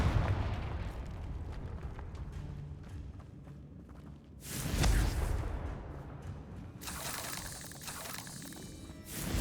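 A Confringo blasting spell explodes in Hogwarts Legacy, a loud fiery burst near the middle with a rushing roar, followed by a second noisy surge against a busy background of game sounds.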